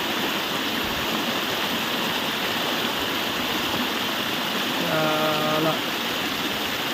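A village stream flows down from a hillside in a steady, full rushing wash that never lets up, heard up close, with a short voice breaking in briefly near the end.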